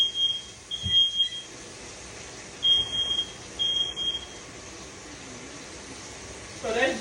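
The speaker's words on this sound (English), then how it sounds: "This damn smoke detector." A household smoke detector chirps in short high beeps, a pair near the start and another pair midway, over a steady background hiss with faint talk underneath.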